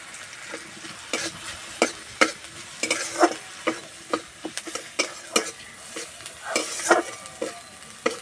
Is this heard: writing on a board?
no